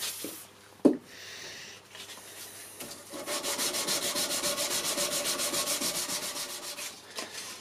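A knife blade being sanded flat by hand on sandpaper, with quiet rubbing that builds into fast, regular back-and-forth scraping strokes, close and steady, after a sharp knock early on.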